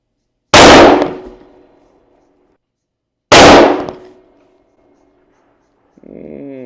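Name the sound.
35 Whelen Ruger Hawkeye African rifle gunshot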